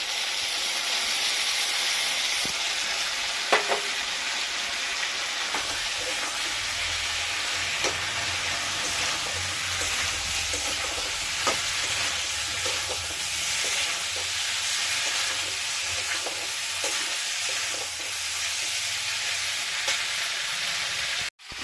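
A paste of cumin, ginger and dried chili fries in hot oil with a steady loud sizzle and hiss, broken by occasional stirring scrapes and clicks, with no talking throughout.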